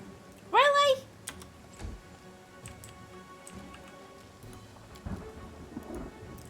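Rain patters steadily with low rumbles of thunder in the video game Pathfinder: Kingmaker, continuing as a soft bed under occasional clicks and faint game effects after a loud brief tonal sound near the start.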